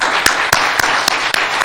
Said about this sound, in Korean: 우리 노만의 따뜻한 박수로 환영하겠습니다.